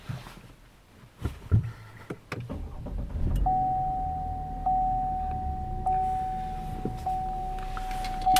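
A Cadillac fitted with the CUE system is started from inside the cabin. A few soft clicks and thumps give way to a low, steady engine hum, with a thin electronic tone running over it.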